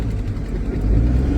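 A car under light throttle during a driving lesson, a steady low engine hum that swells slightly toward the end, close and continuous, with no talk over it.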